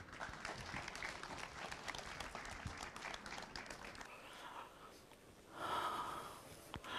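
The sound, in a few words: audience applause for a speaker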